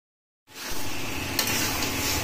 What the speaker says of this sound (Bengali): আর এগুলোকে এবার দেখো ভালো করে ফ্রাই করে তুলে নিচ্ছে